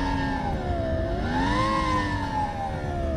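A SoundRacer gadget simulating a Lamborghini Gallardo engine, a continuous synthetic engine tone that swells upward and dips back as revs rise and fall around 3,500 RPM, steady and fairly loud with no talking.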